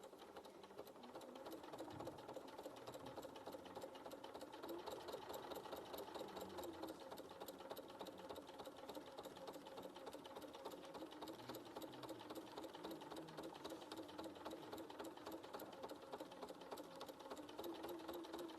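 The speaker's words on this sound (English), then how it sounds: "so I'm just top stitching" A sewing machine runs steadily and continuously while top stitching, a close, even mechanical whir with rapid needle clatter and no pauses throughout.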